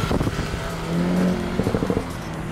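A Jaguar F-Type sports car with a modified exhaust burbles close by, its steady engine drone swelling into a brief held rev before settling, with a quick cluster of popping crackles near the end.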